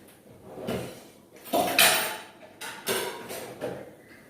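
Clinking and clattering of a spoon being picked out from among dishes and cutlery in a home kitchen, several sharp metallic knocks and scrapes spread across a few seconds.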